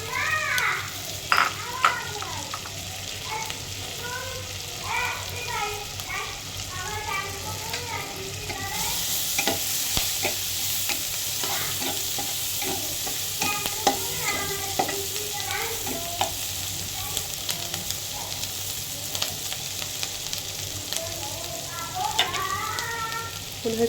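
Vegetables frying with chopped garlic and onion in butter, a steady close sizzle broken by repeated scraping and stirring strokes of a utensil against the pan, running continuously with a brighter hiss partway through.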